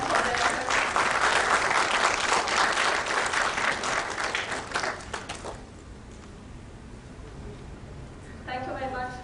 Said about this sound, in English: I request you all to please applaud them for their efforts